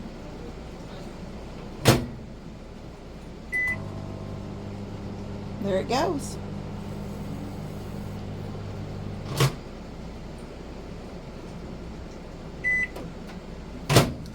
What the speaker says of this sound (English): It will run the microwave if you need it.